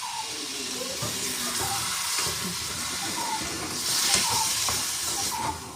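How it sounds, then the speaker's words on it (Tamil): Water poured into a hot pan while cooking an egg-filled fried snack hisses and sizzles continuously, a broad steady rush of steam that swells briefly toward the end. "கொஞ்சம் தண்ணியும் விட்டுட்டு"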